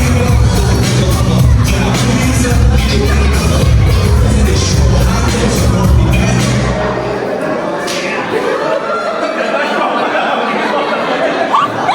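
Birthday party audience clapping and cheering in a dense burst of applause with chatter, loud and close, dying away after several seconds into quieter murmuring.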